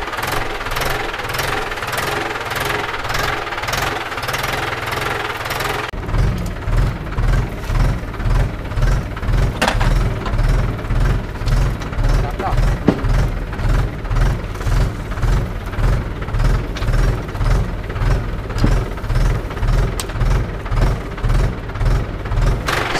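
A tractor engine idles on its own during field preparation, with no throttle or clutch input, chugging in an even, rapid knocking rhythm that sits close and loud throughout, briefly shifting tone partway in.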